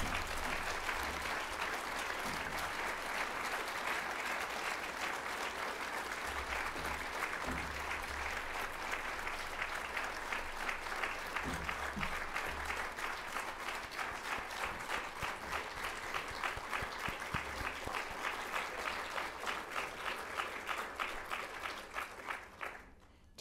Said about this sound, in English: I think the length of that applause says it all